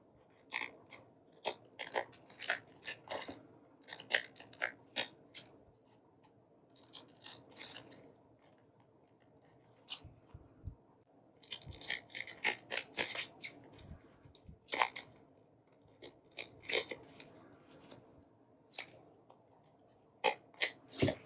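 Scissors snip along the edges of paper scraps for a craft project: quiet, close, irregular bursts of crisp cutting and rustling, with short pauses between runs of clustered snips.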